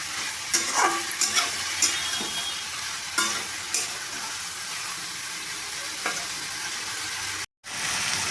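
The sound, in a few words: frying vegetables with ridge gourd and prawns in a pan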